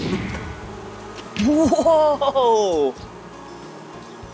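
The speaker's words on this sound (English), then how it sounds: "Yeah, I think I hear bees." Bees buzz outdoors with a wavering, droning tone for about a second and a half, loud and close, while a voice exclaims nearby.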